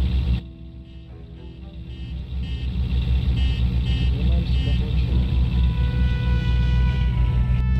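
A BRDM armoured vehicle from the game Unturned drives along with a steady, loud low engine rumble that swells after the first seconds, with voices talking over it.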